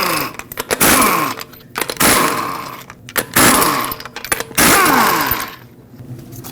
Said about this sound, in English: use a 22mm socket and remove all 5 lug nuts.